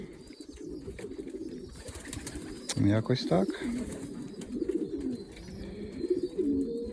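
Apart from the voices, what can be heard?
pigeons cooing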